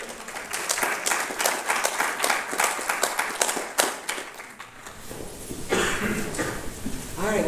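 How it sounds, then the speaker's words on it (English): Sustained applause from a crowd at an MLK celebration, dense clapping that fades briefly, then a voice starts speaking over the last of the clapping. "Let's give a round of applause for Dr. Booker"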